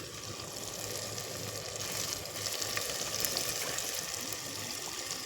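Tomatoes sauté in a pan for a village-style carp fish curry, giving a steady, quiet hiss and sizzle with soft crackles throughout and no talking.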